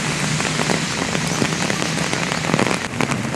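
Steady rain falling outdoors during cherry blossom season in Japan, a dense even patter with scattered sharper drops hitting nearby surfaces, continuous and fairly close.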